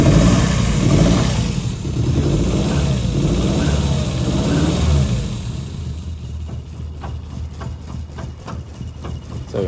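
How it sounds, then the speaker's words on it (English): A cold 1973 Lancia Fulvia 1.3L V4 coupe idles without choke, a steady close engine rumble that sags and thins in the second half as the revs drop and it nearly stalls. "You can hear one idle down and almost die because we don't have the choke on"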